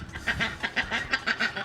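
A duck quacks in a quick rhythmic series of about eight nasal calls, close and moderately loud, with no talk over it.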